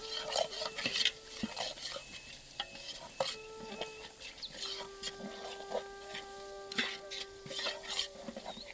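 Ginger, chili and garlic paste stirred and frying in a pan for a village-style egg curry, with steady sizzling under repeated scraping and clinking of a utensil against the pan, close and fairly loud.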